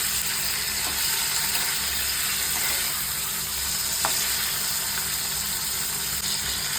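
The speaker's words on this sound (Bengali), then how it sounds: "এইবার আমি পনিরটা ভেজে নেব" Paneer pieces lightly frying in white oil in a kadai, a continuous close sizzle with occasional soft stirring taps and scrapes, no voices.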